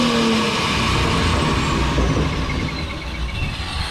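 A Ford Mustang fitted with a newly installed Procharger supercharger sends out a loud, steady engine roar with a faint whine rising over it, and no talk.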